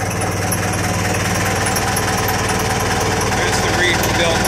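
A restored tank's engine runs just after start-up, a loud, continuous rough rumble with steady vibration close by.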